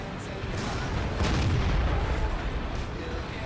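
Artillery fire in a tank video game, heard as a few muffled, moderately quiet booms over a low rumbling background.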